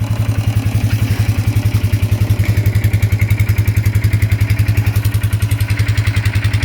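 A plow truck's engine idles in park with its plow lowered, a steady, loud low rumble with an even pulsing beat that runs unbroken and without any talk.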